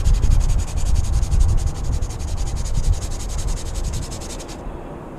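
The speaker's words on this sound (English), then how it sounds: "So you're going to grab your sandpaper" Sandpaper rubbed back and forth by hand over a brake caliper during cleaning, a steady rasping scrape with a repeating stroke rhythm, close and fairly loud, ending abruptly near the close.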